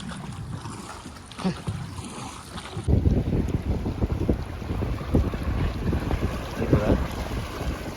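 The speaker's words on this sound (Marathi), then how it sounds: "चला आता होडी आपली डोलीजवळ आलेले आहेत" A fishing boat moves through a tidal creek toward its fixed nets, its engine and hull making a steady low rumble mixed with wind buffeting the microphone and water wash, growing louder and closer after the first few seconds.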